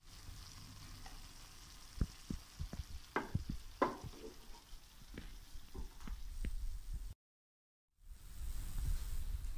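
Rice with yarrow cooks in a pan outdoors, with faint soft sizzling and scattered spoon taps and scrapes. The sound cuts to silence briefly near the end, then resumes.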